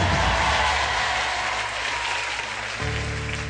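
An audience claps loudly and steadily, and the applause fades slightly toward the end.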